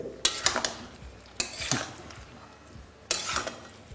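Boiled potato pieces stirred in a kadai over a low flame for masala aloo: three quiet bursts of spatula scraping and clanking against the pan, separated by short pauses.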